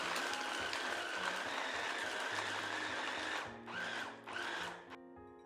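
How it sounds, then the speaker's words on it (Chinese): A food processor whirs steadily as it blends minced meat with ginger-scallion water for meatballs, a loud continuous motor drone that stops briefly, restarts twice in short bursts and then cuts off. "开机搅打。"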